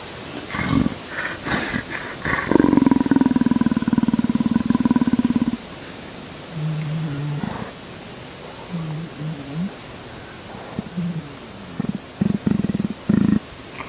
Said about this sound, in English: he's using this guttural sound, sort of like a purring noise